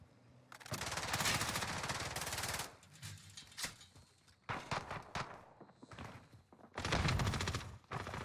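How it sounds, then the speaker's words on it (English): EM2 submachine gun firing in Call of Duty Warzone on Rebirth Island, several loud bursts of fairly slow automatic fire separated by quieter gaps with footsteps and thuds. "But the gunfire's so slow."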